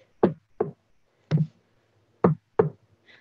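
Knuckles knock on a table or desk: five sharp, hollow raps in two uneven groups, close and clear against near silence.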